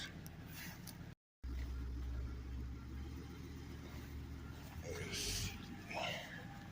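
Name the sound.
U-Haul 26-foot box truck backing up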